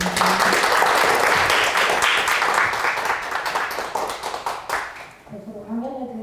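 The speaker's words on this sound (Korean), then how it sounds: "강연을 이렇게 진행해 주시는 이성우 교수님께 한 번 더 뜨거운 박수 부탁드리겠습니다" Warm audience applause for a professor's science lecture on ceramic fuel cells, many hands clapping loudly and densely, thinning toward the end before a voice begins speaking.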